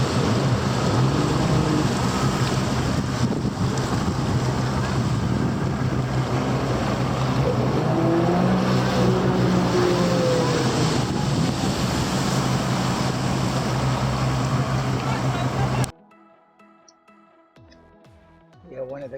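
Motorboat on open water: wind buffeting and water rushing steadily for a long stretch, with a voice underneath, then it cuts to near quiet.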